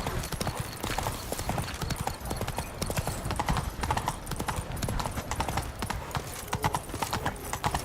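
A horse's hooves clip-clop at a steady trotting pace in the video game The Witcher, loud and close, continuous for about eight seconds, with a faint whinny and light background game sound.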